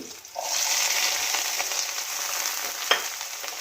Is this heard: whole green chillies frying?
yes